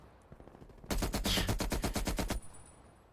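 A burst of sustained light machine gun fire in a first-person shooter game, a rapid run of loud, evenly spaced shots lasting about a second and a half after a quiet start, then cutting off.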